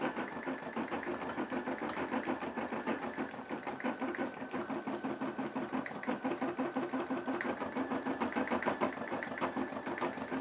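A Brother SE600 embroidery machine stitches a large design in a steady, fast, rhythmic mechanical chatter that carries on without pause, close and moderately loud, with no talking.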